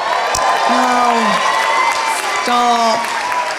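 A stand-up comedy audience cheering and applauding, a loud dense wash of clapping and whoops filling the room, with the comedian's voice speaking over it.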